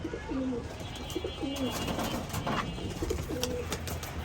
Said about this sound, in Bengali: এখানে সব রানিং টেডি আছে, বিভিন্ন কবুতরের জাত আছে এখানে